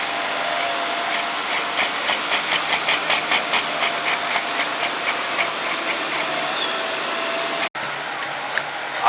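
A tractor or truck pull engine at a county fair runs loud and steady, with a rapid regular pulsing exhaust beat and a brief dropout near the end, heard from the grandstand at moderate distance.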